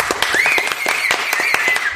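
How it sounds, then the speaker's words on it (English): A small group claps in scattered, distinct hand claps, fairly close and loud, with a whistle-like tone running over the top for about two seconds. "why don't we give you guys a round of applause?"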